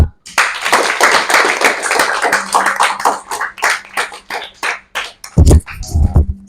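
Classroom audience clapping for a student group after their presentation, a quick ragged patter of several pairs of hands close by, thinning out, followed by a few short voices near the end.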